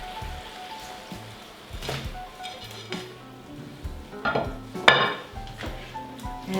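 Pork tipped into sauce in a hot wok for a pork stir fry, hissing in a steady crackling sizzle with a louder burst of spitting midway, alongside occasional scrapes and clinks of utensils against the pan.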